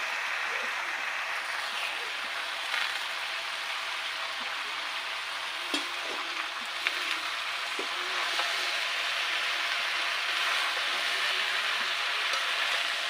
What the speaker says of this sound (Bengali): এবার পুঁই শাক দিয়ে দিচ্ছি পুঁই শাক দিয়ে একটু কষাকষি করে নেবো